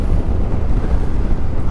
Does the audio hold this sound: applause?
no